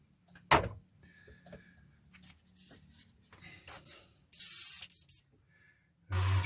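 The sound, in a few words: airbrush spraying aluminium paint on F-104J model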